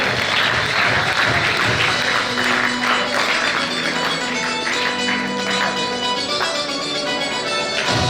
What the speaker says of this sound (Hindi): तालियों के साथ उनका स्वागत करेंगे